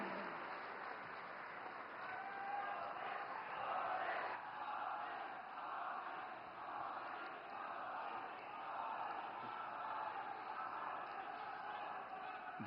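Large crowd applauding steadily at a public event welcoming Prime Minister Narendra Modi in Gujarat, a broad continuous wash of clapping and cheering that swells and settles without a break, fairly distant and diffuse.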